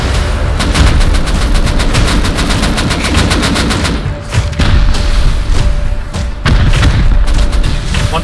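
Loud, sustained rapid gunfire from the Rust video game, automatic bursts rattling almost continuously with brief gaps and heavy low thumps.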